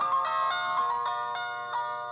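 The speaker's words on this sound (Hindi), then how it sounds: "मेरा दोस्त का फोन है।" An incoming-call ringtone on a mobile phone, a bright repeating electronic melody of short tonal notes in a steady rhythm, moderately faint and heard alone without talk.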